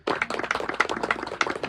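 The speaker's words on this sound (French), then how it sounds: "On peut applaudir." A small crowd at a carp fishing enduro prize-giving claps for the last-placed team, giving a short burst of dense, close applause.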